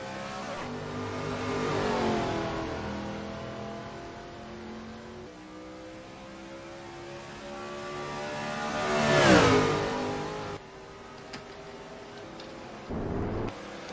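Race cars lapping the Charlotte track, engines roaring loud and close with a rising pass around mid-clip, harmonics sliding as one car sweeps by, then fading before another brief burst near the end.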